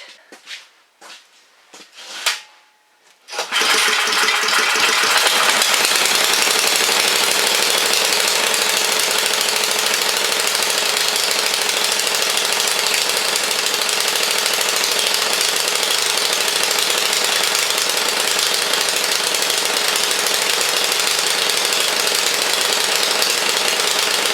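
A snow blower engine with a freshly cleaned carburetor is pulled over a few times, then fires and runs loud and steady right next to the listener, a continuous rapid rattling roar with no speech.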